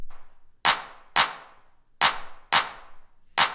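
Processed percussion clap groove without any added snare, with five sharp, bright claps in an uneven rhythm and quick decaying tails between the hits.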